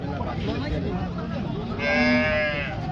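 A cow moos once at a cattle market, a long, low, drawn-out call rising in the middle, close by, over a steady background hum.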